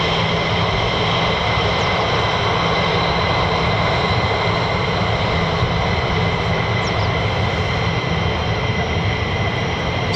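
An F-15E two-seat fighter jet at RAF Lakenheath, a loud, unbroken jet engine roar with a steady high whine, constant for ten seconds and free of talk.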